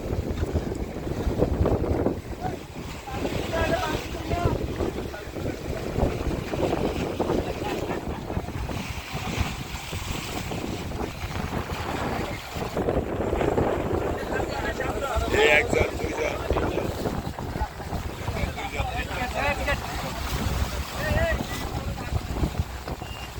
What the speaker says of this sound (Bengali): এই যে আমরা এই ট্রলারে হাতিয়া যাব।